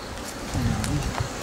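Honey bees buzz at an open hive during a swarm-control inspection, making a close, agitated hum that rises in the middle, with faint voices underneath.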